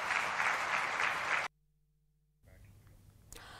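Applause honoring army soldiers, a dense, sustained burst of clapping at a news event that cuts off abruptly partway through, followed by near silence and faint background noise.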